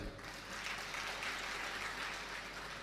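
Dense, continuous applause from a large crowd at a motivational speech rolls on evenly for about three seconds, filling the space without any pause.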